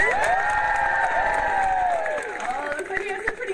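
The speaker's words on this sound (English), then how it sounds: "Let's hear an even bigger practice cheer" A crowd cheers and shouts together at a bird race, a loud, sustained roar of voices that holds for a few seconds and then thins out.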